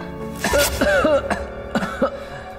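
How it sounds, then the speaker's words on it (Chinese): A few harsh coughs from someone close by, three or four separate bursts spread over a couple of seconds, with a throat-clearing quality and no talking. "一起咳嗽吧。"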